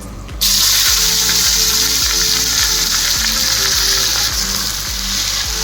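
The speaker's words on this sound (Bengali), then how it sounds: "পেঁয়াজ যাতে তাড়াতাড়ি ভাজা হয়ে যায়" Sliced onions fry in mustard oil with bay leaf, cardamom, cloves, cinnamon and cumin. A loud, steady sizzle starts abruptly and hisses on continuously over soft rhythmic background music.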